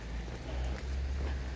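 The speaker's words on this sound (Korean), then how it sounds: "오늘 비 오는 아침" Steady rain on a gray morning, a dense even hiss of drops with a low rumble underneath, continuous and fairly close with no voices.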